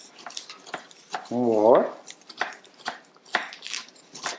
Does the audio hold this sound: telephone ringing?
no